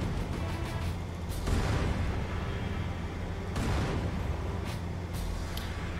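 Gunfire in a Halo 2 battle on Legendary difficulty: dense, continuous rattling shots with heavier booming bursts swelling around the second and fourth seconds, steady and loud throughout.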